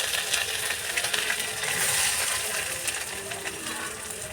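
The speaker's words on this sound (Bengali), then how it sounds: "আলু দিয়ে দিচ্ছি" Potatoes go into a pan of hot oil and fry, a continuous close hiss and crackle with faint stirring and scraping.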